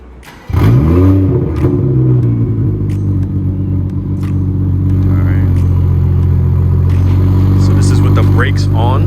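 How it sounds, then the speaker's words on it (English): A BMW F30 sedan's engine starts up and settles into a steady, loud idle with a deep rumble, heard up close and alone after a brief quiet moment. "start the car right now"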